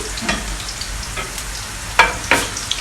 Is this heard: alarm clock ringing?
no